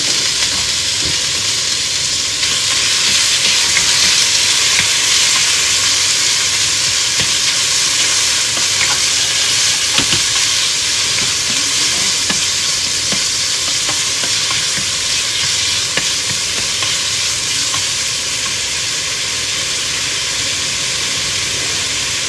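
Meat sizzling loudly in a hot pan while stir-fried for tonjiru, a dense continuous hiss and crackle with occasional stirring scrapes, close and alone throughout.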